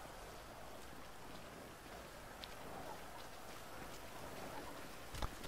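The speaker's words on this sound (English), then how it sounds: "Man, turn off the freaking rain! It sounds like footsteps!" Rain in the video game GTA 5 patters as a soft, continuous hiss of drops on surfaces, faint and steady, with a few sharper taps near the end.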